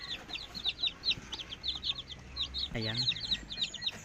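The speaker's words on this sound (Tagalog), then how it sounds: "para masama na po natin itong sisiw na nasa karton na may ilaw po" Baby chicks kept in a cardboard box under a light peep in rapid, high, thin chirps that come in a busy, irregular stream, with a voice briefly speaking partway through.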